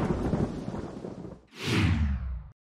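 Theatrical thunderstorm sound effect on a stage, a sustained rolling rumble that breaks off and then surges back as a loud, booming thunder crash before cutting to silence.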